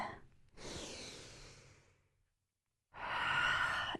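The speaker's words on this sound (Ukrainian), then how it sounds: "І видихайте, робіть гарний подовжений видих." Two long, deep exhales during a breathing exercise for reducing swelling, each a breathy rush of air lasting over a second, close to the mic and separated by a short silence.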